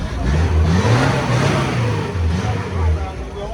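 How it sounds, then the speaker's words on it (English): A 15-year-old tomato transporter truck engine revs loud and close in a steady, rough mid-range roar that swells and eases slightly, with no voices over it. "It's the engine working perfectly."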